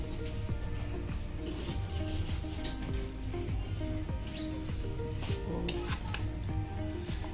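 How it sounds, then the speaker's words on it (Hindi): Food being mixed in a pan, with quiet clinks and scrapes of a spoon against metal over a faint sizzle and low background hum. "ये मैं इसे मिक्स कर रही हूँ अच्छी तरह से"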